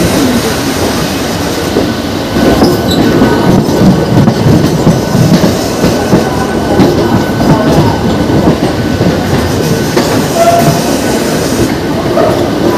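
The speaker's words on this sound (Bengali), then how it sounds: "এই ট্রেনটি প্রতিদিন বিকেল 4:05 হাওড়া স্টেশন থেকে ছেড়ে যায় আর বেলুড় মঠ গিয়ে পৌঁছায়" A Howrah to Belur Math local train in motion, heard from inside as a loud, continuous rumbling roar with rhythmic clatter of wheels on rails throughout, no voices.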